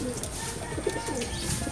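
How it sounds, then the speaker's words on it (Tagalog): Racing pigeons coo softly inside a loft, their low, throaty calls overlapping close by over a faint background hum. "dalawang ibon natin nakabalik dito sa loft ng di inaasahan"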